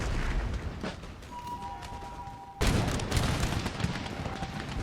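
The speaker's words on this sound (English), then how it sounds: "there's a massive amount of cannons out there" Cannon fire in the Empire: Total War video game, a sudden loud booming barrage that follows quieter battlefield rumble and continues as dense crackling artillery.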